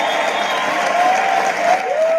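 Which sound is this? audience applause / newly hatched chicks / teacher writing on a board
audience applause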